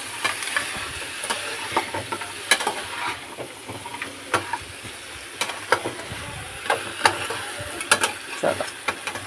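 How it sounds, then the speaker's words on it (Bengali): Crab curry is stirred in a pan, with a low steady sizzle under scattered scraping and clacking strokes of a spatula at an irregular pace. "একটু নেড়ে চেড়ে অল্প জল দিয়ে দেবো"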